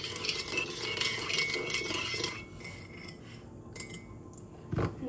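A utensil stirs brownie batter in a bowl, making busy scraping and clinking strokes that run steadily, ease off midway, then end with a sharper knock against the bowl.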